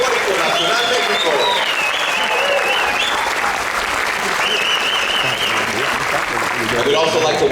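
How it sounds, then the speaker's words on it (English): Audience applause following a Mexican folklórico dance performance at a district civic event, a dense, steady clapping from a sizable crowd lasting throughout, with faint cheers and voices mixed in. "Please give a round of applause to the dancers of Folclórico Nacional Mexico."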